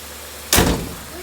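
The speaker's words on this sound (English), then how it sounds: "let me close the door" A car door on a 1982 Mercury Capri 5.0, a long-abandoned car, swings shut with a single loud, close thud that rings out briefly in a quiet space.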